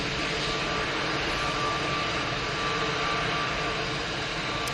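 A British Airways airliner on approach, a broad steady jet roar that holds loud and even throughout, with no talk.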